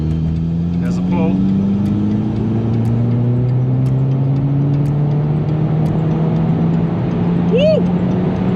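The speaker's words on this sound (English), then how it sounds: "Get into 4th gear. Full throttle. There's a pull." A VW Mk5 GTI engine pulls at full throttle in fourth gear: a loud, continuous drone whose pitch climbs steadily throughout, with an in-car road roar beneath it.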